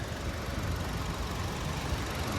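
A 1.8 liter naturally aspirated Honda Civic engine with timing chain idles steadily in an open engine bay, a loud, even hum with no distinct knocks or speech.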